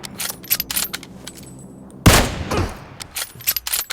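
Gunfire in the mobile game PUBG Mobile: sparse rapid shots, then a loud, dense burst of automatic fire in the middle, trailing off into scattered shots.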